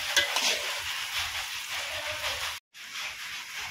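Mutton pieces fry in a blackened iron wok, giving a steady close crackling sizzle with stirring scrapes, broken by a very short gap of silence near the end.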